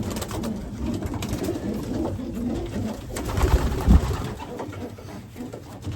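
Racing pigeons in a loft cooing, several soft low repeated coos overlapping close by, with a louder burst near the middle and faint background rustle.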